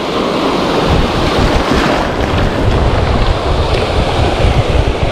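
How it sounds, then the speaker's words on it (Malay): Heavy ocean surf from a tropical storm roars continuously on a beach, loud and close, with wind buffeting the microphone throughout. "Minta maaf, ombak kuat."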